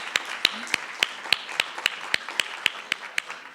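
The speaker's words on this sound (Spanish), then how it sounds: "pues con un aplauso, por favor" A small audience gives a thin round of applause at a National Agroecology Day event, sparse, evenly spaced claps sounding close and distinct in an otherwise quiet room.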